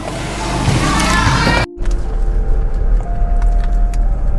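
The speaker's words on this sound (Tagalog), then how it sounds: "Sakay muna tayo ng sasakyan." Someone climbs into a car: loud rustling and movement noise ends in an abrupt thud as the door shuts, followed by the muffled, steady hum of the vehicle's cabin.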